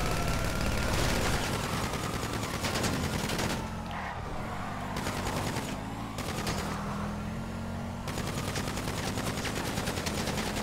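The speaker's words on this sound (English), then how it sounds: "I'm about to shoot this guy." Gunfire in the Grand Theft Auto V video game, rapid repeated shots over a steady bed of engine and street noise, loud and dense at first, easing in the middle, then building again, with no talk.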